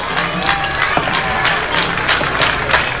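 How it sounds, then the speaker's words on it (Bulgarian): Audience applause at a Rally Bulgaria 2016 event, a steady wash of clapping and crowd noise with scattered louder claps filling the whole stretch. "Моля вашите аплодисменти за Боян и Димо."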